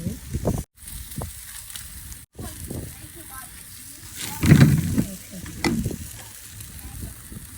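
Barbecue chicken sizzles and spits on a garden grill, a steady frying hiss broken by scraping stirs and turning, with people talking over it.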